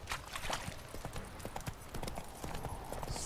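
Horse galloping in The Witcher 3, a fast rhythmic clip-clop of hooves that carries on throughout, fairly close, with faint ambient game sound behind it.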